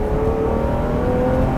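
A Ferrari 330 GTC engine pulls hard under acceleration, a loud, close, sustained drone with a steady tonal whine that holds through the whole stretch, with no voices.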